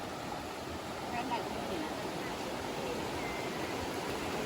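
Steady broadband rush of water flowing at a waterfall, a continuous hiss with no clear breaks, moderately loud and even throughout.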